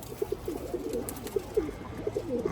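A male pigeon coos close by in a series of soft, rounded, repeated calls, several across a couple of seconds with short gaps, over a faint background hiss and no talking.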